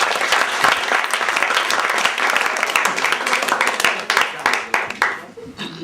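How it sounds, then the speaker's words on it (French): Audience applause at a school event in a French-speaking setting, a dense, steady round of clapping from many hands that thins into scattered claps near the end, with some voices mixed in. "Je voudrais qu'on les applaudisse."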